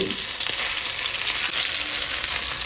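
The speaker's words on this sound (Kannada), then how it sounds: "ಈ ಫ್ರೈ ಆಗ್ತಾ ಇದೆ" Marinated mackerel masala fish frying in coconut oil on a tawa, a loud, steady crackling sizzle that fills the whole moment without letting up, no voices over it.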